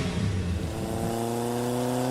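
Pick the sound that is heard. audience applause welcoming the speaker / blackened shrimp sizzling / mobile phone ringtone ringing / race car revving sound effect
race car revving sound effect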